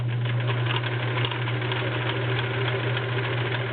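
A vintage Kenmore convertible sewing machine, model 1941, runs a regular zigzag stitch with a steady, close motor hum and a fast, even needle chatter, with no pauses and no talking.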